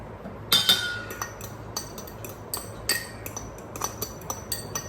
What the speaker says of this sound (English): मैं इसी फोक से उसको हल्का हल्का मिक्स कर रही हूँ